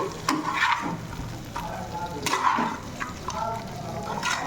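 Fish frying in a pan in a home kitchen, a steady close sizzle with scattered crackles and occasional stirring scrapes, no voices.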